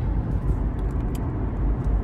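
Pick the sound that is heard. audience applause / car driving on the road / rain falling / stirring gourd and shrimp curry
car driving on the road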